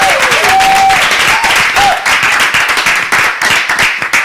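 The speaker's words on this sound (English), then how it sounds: "let's give ourselves a round of applause" A small group gives itself a round of applause, close and fairly loud clapping that thins out into scattered claps, with a few short voices and whistles at the start.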